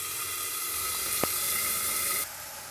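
Lote fish (Bombay duck) frying under a lid in a pan, a loud continuous hiss and sizzle with one sharp tick, dropping in level near the end.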